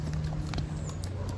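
Hooves of a ridden horse clip-clop in a quick, steady rhythm over a constant background hum, close and clear, with no talking.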